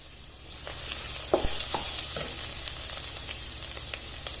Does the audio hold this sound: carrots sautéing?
yes